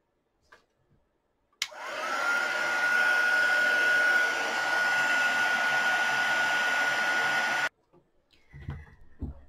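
A hair dryer drying a painting switches on abruptly and runs steadily for about six seconds with a constant whine, then cuts off, followed by faint handling noises.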